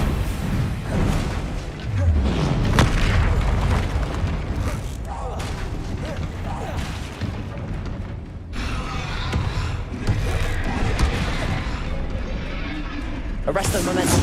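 Spell-casting blasts from Hogwarts Legacy combat, with a troll fight nearby: repeated loud booming bursts and magical impacts follow one another across the whole stretch, layered under a player's spoken incantations and game music.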